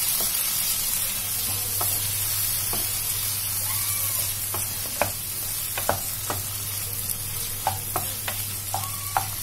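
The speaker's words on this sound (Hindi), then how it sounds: "और इन्हें भी हम अच्छे से मिक्स कर देंगे।" Mushrooms being stirred in a hot pan, a steady close sizzle with a low hum underneath and irregular scraping clicks of the spoon, no one talking.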